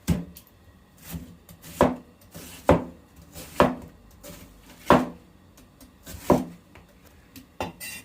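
A knife chopping onion and ginger on a cutting board, about a dozen distinct close thuds in an uneven, unhurried rhythm with soft rubbing between cuts.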